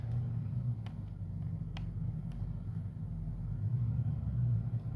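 A tractor in a farming video game backs a header trailer into place, its engine giving a steady low rumble with a few faint clicks over it, and no talking.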